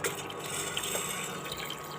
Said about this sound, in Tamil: இப்போ நமக்கு எந்த அளவுக்கு தண்ணி தேவைப்படுதோ அந்தளவுக்கு தண்ணி சேர்த்துக்கலாம்.